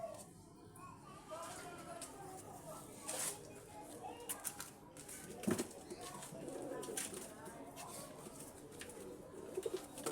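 Breeder pigeons coo softly in a loft, with low repeated calls mixed with rustling, shuffling and tapping sounds.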